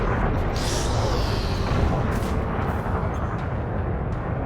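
Weapons fire from a small fighter craft in the space game Elite Dangerous comes as a dense, loud, continuous rumbling barrage with scattered crackling impacts. It stays steady throughout with no speech.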